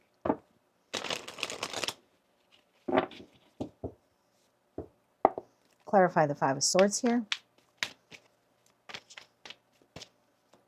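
Brief bursts of tarot cards being riffled and shuffled, separated by quiet pauses, with a voice speaking softly between them.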